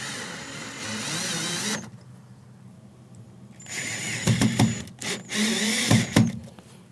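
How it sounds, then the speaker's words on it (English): Power drill driving screws into the back plate of a bi-fold door handle, a sustained whirring run followed by several short bursts with pauses, close and loud. "you have the back plate exposed for your screws to be installed into the panel"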